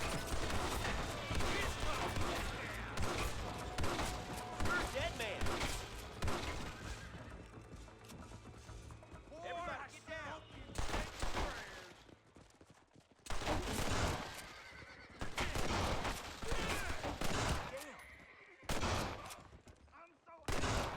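Gunfire in Red Dead, with rapid volleys of loud shots and bursts of rifle fire, a horse whinnying among them, and sharp cracks separated by brief lulls.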